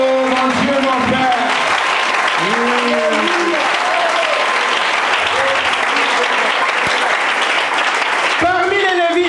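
Church congregation applauding and cheering in acclamation during worship, steady sustained clapping with crowd voices and singing-like vocal tones mixed throughout, loud and continuous.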